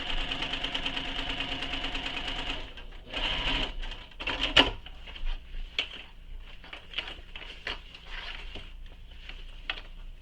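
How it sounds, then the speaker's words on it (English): Sewing machine top stitching a fabric bag: a rapid, even needle chatter for a few seconds, then short stop-start bursts and clicks as the stitching slows, close and moderately loud with no talking. "I'm just slowly sewing along"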